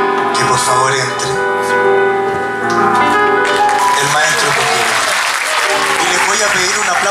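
Audience applause at a live music performance, a broad wash of clapping swelling in over the second half after sustained instrumental tones, strong and close.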